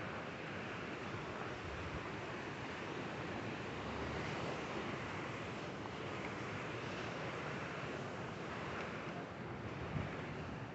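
Sea waves wash onto the shore at Largo de Amaralina in Salvador, a continuous soft roar of surf mixed with wind buffeting the microphone, steady and fairly faint throughout with no voices.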